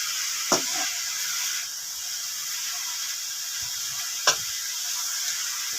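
Shredded cabbage sizzles in a pan for chicken spring roll filling: a soft, even hiss runs throughout, broken by two sharp utensil knocks about four seconds apart.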